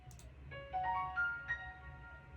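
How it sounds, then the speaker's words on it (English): Faint piano from UVI Workstation software plays a short ascending run of a few soft notes over low background hum, quiet and alone. "And that's a really nice piano that I got for free."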